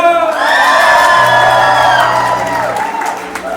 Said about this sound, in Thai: เอาปรบมือให้ท็อปฟอร์มหน่อยเด้อ